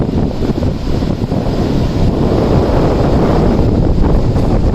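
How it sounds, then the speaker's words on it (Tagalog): Strong wind roars and buffets continuously at Bagasbas beach, with a rumble of surf beneath it, loud and unbroken throughout. "sobrang lakas ng hangin"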